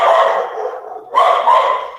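Indoor dogs bark loudly and close by in two bursts, a sustained volley of sharp barks and yips, a brief lull, then another volley, with no talk over them.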